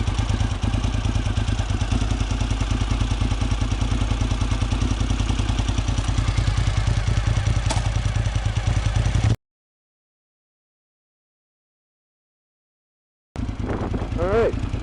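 A motorcycle engine idles steadily with a low, even throb while the rider clutches into first gear, then cuts to silence for several seconds before the running engine returns briefly.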